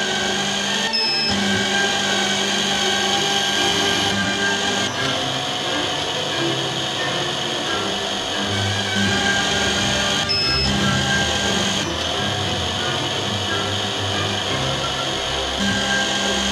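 Digital lens drilling machine boring holes in eyeglass lenses, a continuous dense whirring motor hum with brief pauses and shifts in pitch, close and steady with no talk.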